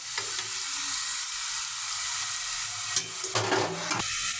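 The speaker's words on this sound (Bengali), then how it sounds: "এদিকে নিমকি ভাজতেছি" Nimki, diamond-cut pieces of Bengali fried dough, puffing up as they fry in hot oil, giving a steady close sizzle with brief louder bursts of bubbling near the end.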